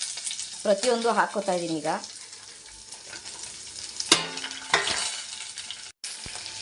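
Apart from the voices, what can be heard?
coconut and tomato frying in a pan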